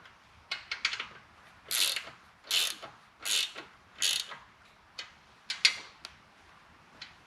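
Ratchet wrench tightening rocker box bolts on a 2004 Harley-Davidson Road King Twin Cam, a series of about nine short, close metallic clicking bursts separated by brief pauses.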